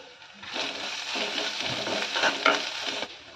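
Stirring an onion snack mixture with salt, turmeric and chilli powder, a close scraping, rustling mix with light sizzle-like crackle that rises after a quiet start and fades near the end, no voices.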